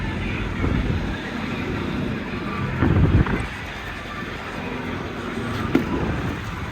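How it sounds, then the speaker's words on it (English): Strong wind on the Nevada salt flats buffets the microphone in a continuous low roar, with louder gusts rumbling through, one especially hard burst near the middle. "It is very windy."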